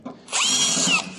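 A power drill spins an 1/8-inch bit, opening clogged holes in the body of a 1978 Ford Bronco during restoration, a single steady whine of under a second, close and loud with no talk.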